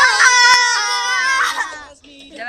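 A girl lets out a loud, shrill, sustained scream with a wavering pitch, close up, breaking briefly before a second cry starts.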